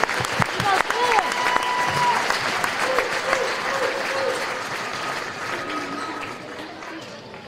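A crowd in a high school gym applauds steadily throughout a Hall of Fame induction at a girls' varsity basketball game, the clapping dense and sustained, with some cheering and a voice faintly audible in the mix.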